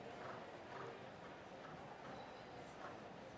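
Hooves of a dressage horse clip-clopping on the arena surface during a CDN Prix St Georges test at an outdoor seaside show, a soft steady rhythm of distant footfalls under a constant low background hum.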